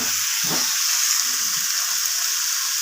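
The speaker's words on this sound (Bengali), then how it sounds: "বেগুনগুলোকে ভাজবো নুন হলুদ দিয়ে, আর একটু গোটা গোটা কাঁচা লঙ্কা দেবো" Eggplant pieces fry in hot oil with mustard seeds, giving a steady, loud, even sizzle that runs throughout, with a few faint low knocks beneath it and no talking.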